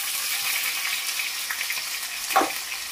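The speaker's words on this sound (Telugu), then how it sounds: "ఇదిగోండి మనం పట్టి పెట్టుకున్న పేస్ట్ వేసేసేద్దాం." Ground paste is added to onions frying in a pan, and the oil hisses and sizzles steadily, with a brief wet crackle as the paste hits the pan.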